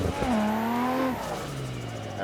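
A boosted Nissan RB26 engine swapped into a Toyota 86 / Subaru BRZ / Scion FR-S gives a short loud rev that climbs, then drops to a lower drone, close by, with a voice talking over it.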